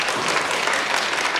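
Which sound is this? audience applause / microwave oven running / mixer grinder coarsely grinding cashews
audience applause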